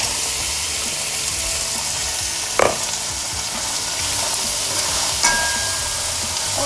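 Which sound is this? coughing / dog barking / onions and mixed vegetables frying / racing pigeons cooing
onions and mixed vegetables frying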